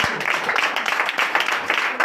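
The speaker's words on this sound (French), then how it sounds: "Attends, on va applaudir ça." Church congregation at a Sunday worship service in Comè, Benin, applauding together in a dense, steady wash of many hands, loud and continuous throughout with little break.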